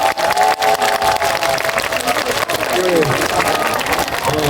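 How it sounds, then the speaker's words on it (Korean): At an outdoor film festival stage event, an audience claps for the cast in a dense, continuous round of applause, loud and close, with voices and a low engine-like hum underneath. "큰 박수 한 번 더 부탁드리겠습니다"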